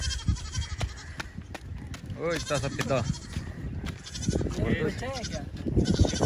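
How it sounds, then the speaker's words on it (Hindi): A female goat bleats repeatedly, in several wavering cries of varying length, close by in a pen with other goats, while someone talks over and between the calls. "वो बकरी रो रही है अपने मियाँ को जाता देख के"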